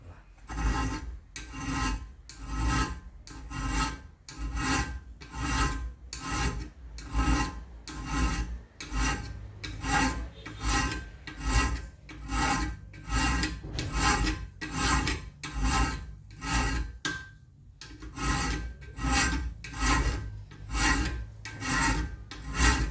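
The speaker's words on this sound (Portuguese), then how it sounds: "Eu vou colocar aqui na minha morsa e vamos pro lixamento." Steady rhythmic strokes of a file or abrasive rasping along a dagger blade made from old files, clamped in a vise, loud and close, repeating about once per second with one short pause, no talk.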